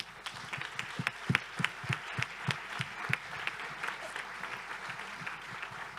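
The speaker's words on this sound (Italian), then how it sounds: "Un ulteriore ultimo applauso ai nostri relatori e al nostro Presidente." Applause from a conference audience in Italy for the speakers and the president, steady clapping with some sharper individual claps standing out, continuous through the whole stretch at moderate level.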